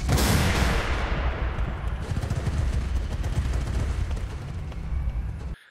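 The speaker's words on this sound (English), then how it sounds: "I prompted it with gunfire and explosions" AI-generated heavy gunfire and booming explosions roar continuously, dense rapid bursts layered over rumbling blasts, loud and chaotic throughout before cutting off abruptly.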